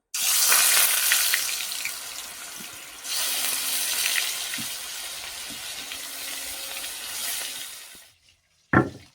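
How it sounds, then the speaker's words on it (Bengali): Salt-and-turmeric-rubbed fish pieces frying in hot oil in a wok give a loud, dense, continuous sizzle up close for several seconds. The sizzle then cuts off abruptly and is followed by a brief clatter. "আমি মাছ কটা ভেজে নেবো।"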